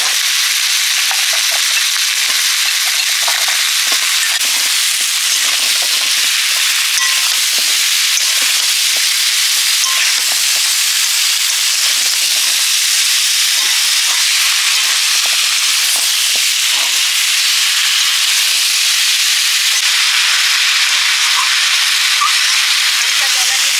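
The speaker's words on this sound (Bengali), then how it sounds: "হালকা জ্বালানিতে মশলার সঙ্গে কামরাঙা আর মারিচ ডাঁটাগুলো কষে নিচ্ছি" Marish greens stalks with spices and starfruit stir-frying over low heat in a pan, a loud continuous bright sizzle and hiss with occasional stirring scrapes, steady throughout.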